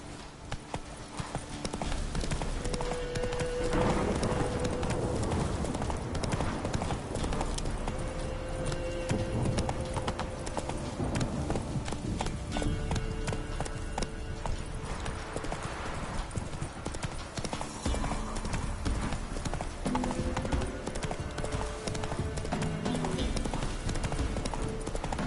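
Roach, a horse in The Witcher 3, gallops with a fast, steady clip-clop of hooves that runs on without a break, while music plays faintly under the hoofbeats.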